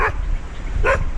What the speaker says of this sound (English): Dogs were chasing me just now.